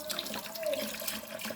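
Tap water runs briefly and steadily over a fish being cleaned in a kitchen sink after its fins have been trimmed, a close, soft splashing flow.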